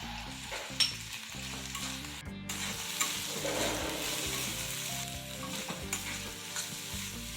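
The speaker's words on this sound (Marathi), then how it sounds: "छान परतून घेऊया अजून एकदा" Black masala, chili powder and salt sauté in a pan for a wild vegetable curry, a dense continuous sizzle with the constant scrape and clink of a stirring spoon, close and steady.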